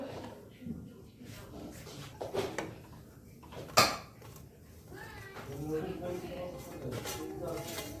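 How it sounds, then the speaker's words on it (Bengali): A wok (kadai) set down on a gas stove makes a sharp metallic clank mid-clip, among softer clattering kitchen sounds and a person talking. "কড়াইটা বসিয়ে দিলাম।"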